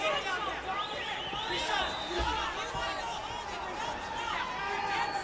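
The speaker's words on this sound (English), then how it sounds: "You can hear the crowd here in the San Diego Sports Arena shouting for both fighters." Crowd at a fight night in the San Diego Sports Arena, a steady roar of shouting and chatter filling the hall throughout with no clear breaks.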